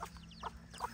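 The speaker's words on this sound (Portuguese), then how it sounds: "As galinhas são boas para cuidar de pintinho" Farm chickens cluck in short, soft repeated bursts, three or four close clucks within a second over low background hum.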